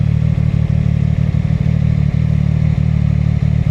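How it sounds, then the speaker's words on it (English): A CFMOTO 675SS motorcycle engine pulling on the throttle, a loud, close, steady droning hum with a rapid clattering pulse and small rhythmic ticks running through it, with no talk over it. "Why am I rolling on the throttle?"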